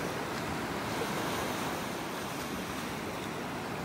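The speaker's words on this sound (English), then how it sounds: "The wind has shifted. Feels like it's coming out of the northeast now" Wind blows steadily across a beach in North Naples, Florida, a loud, constant roar of rushing air and microphone buffeting blended with surf, with no voices.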